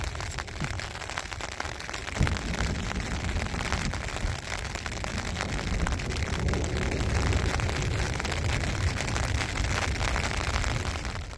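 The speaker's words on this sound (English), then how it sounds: "it's starting to rain harder" Heavy rain pelting down on a Montana mountainside during a spring bear hunt, a steady dense hiss that stays loud and constant throughout, with gusty wind mixed in.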